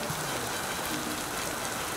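Steady rain falling outdoors around a Blackstone 22-inch griddle during cooking, a dense continuous hiss of drops on surfaces, fairly loud and unbroken, with no talk.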